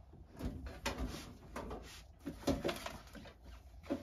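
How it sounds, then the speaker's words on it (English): A larger drawer in a new Cricut craft cabinet slides open with soft, quiet rumbling and light knocks and clatter spread across a few seconds. "So let me move down to a larger drawer."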